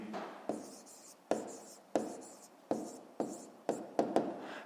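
Pen writing by hand on paper, a series of short scratchy strokes in an irregular rhythm, close and quiet, with no talking.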